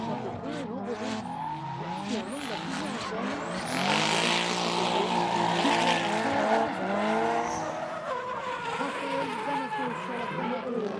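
Drift cars at the Tours round of the French drift championship, a black Camaro chased by a blue BMW, roar with tire screech and shifting engine pitch, heard at a distance under continuous commentary.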